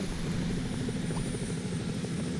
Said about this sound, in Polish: Ale helikopter!